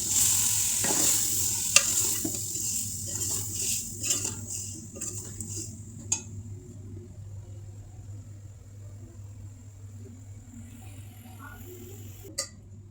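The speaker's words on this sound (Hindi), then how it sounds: "यहाँ पर जी मसाला मैं भून रही थी" Masala for chicken biryani fries in a pan and is stirred, giving a bright continuous sizzle that gradually quiets, with occasional clinks of a spoon against the pot.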